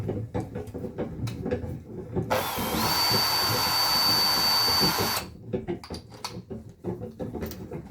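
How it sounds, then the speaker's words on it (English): A power drill whines steadily for about three seconds, enlarging a hole while building a spiral staircase, loud and close, amid background clatter and handling noise before and after. "So I need to drill that hole bigger."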